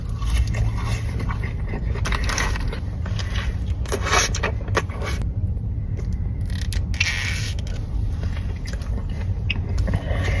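Close crunching and chewing of McDonald's fries dipped in ranch, with steady wet mouth sounds, crackles and scraping bites that continue without pause throughout.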